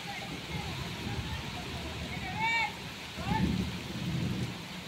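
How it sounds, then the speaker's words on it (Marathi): Heavy monsoon rain in the Konkan countryside pours steadily, with low rumbling beneath and a few brief whistle-like tones over the downpour; voices are heard talking intermittently. "खूप म्हणजे खूप जोरात पाऊस आलाय"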